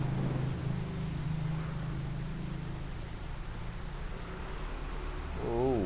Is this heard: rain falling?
yes